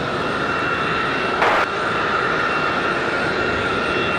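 A fixed-wing airplane engine roars steadily at Raleigh Durham International Airport near the runway, a continuous loud drone with a brief brighter swell partway through.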